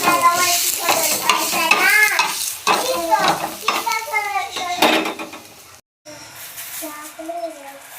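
Ginger and garlic sizzle and crackle in a hot pan under stirring, with voices talking over it most of the way.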